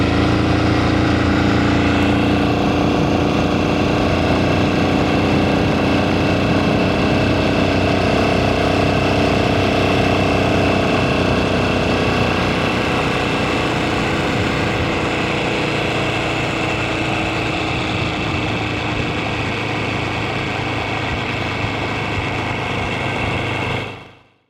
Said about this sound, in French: super tracteur.